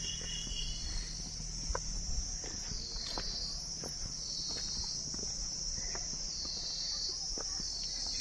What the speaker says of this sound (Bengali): শান্ত পরিবেশে একটু ঝিঝির ডাক,